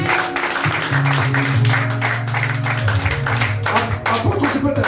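Church congregation applauding at a Pentecost service, a dense sustained clatter of many hands filling the room, with a steady musical drone and voices running underneath throughout.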